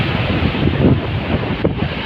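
Steady loud wind buffets the microphone during a typhoon at Pitugo, a dense rushing roar with waves churning beneath it and no voices.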